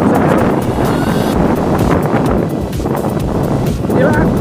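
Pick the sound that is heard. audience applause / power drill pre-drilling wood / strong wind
strong wind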